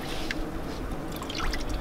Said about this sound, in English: I have a bucket of clean water. I just kind of wring it out.